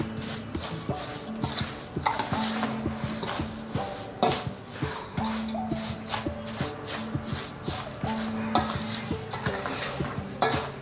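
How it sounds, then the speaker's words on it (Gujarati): Red chilli pickle ingredients for a Kathiyawadi pickle, including Kashmiri red chilli powder, are stirred together, making steady, rhythmic scraping and shuffling close by over soft background music. "બધું સરખી રીતે મિક્સ કરી દેવાનું."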